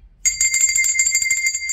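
A notification bell sound effect plays as a bright, rapid ringing chime that starts suddenly and carries on at a steady volume with no voices over it.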